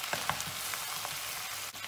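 A spoonful of tomato paste sizzles in a pot with peppers as it is browned. The frying hiss stays steady and close, with a few light stirring knocks over it.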